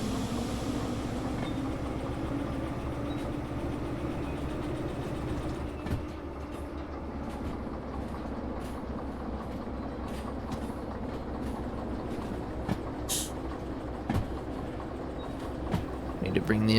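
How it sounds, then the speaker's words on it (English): A freight train in the Derail Valley railway simulator coasts toward a stop with a continuous rumble and rolling wheel noise, punctuated by occasional clicks and clanks near the end, with someone talking over it. "Need to bring the end of our train past that switch there. So we'll just coast again."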